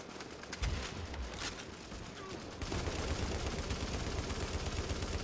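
An M60 machine gun fires in Tom Clancy's The Division, with scattered shots at first, then a dense, sustained burst of rapid automatic fire that runs loud to the end.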